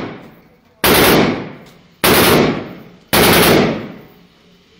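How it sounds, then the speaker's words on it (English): Three loud, close shotgun blasts of double-aught buckshot, nine pellets per shot, fired at a gun range, each sharp report followed by a decaying echo, spaced about a second apart. "double up buck, there's 9 pellets in each shot, so 45 new holes"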